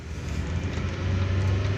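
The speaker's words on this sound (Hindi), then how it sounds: "अब देखें ये गाड़ी के इंजन से और लग रहा है कि अब दूसरा गियर मांग रही है" A car engine idling low in first gear, a steady deep hum that rises slightly over the short stretch, with no talk.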